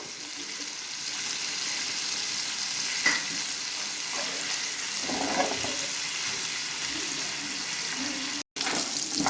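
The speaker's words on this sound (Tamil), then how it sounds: "நம்ம இப்போ ஃப்ரை பண்ணிட்டோம், டீப் ஃப்ரை பண்ணிட்டோம்" Fish deep fries in a pan of oil, giving a steady, close hissing sizzle with occasional soft pops and a brief cut-out near the end.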